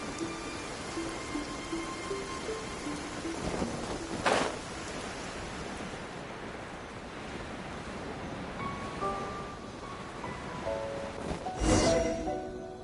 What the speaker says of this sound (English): The rain won't slow me down.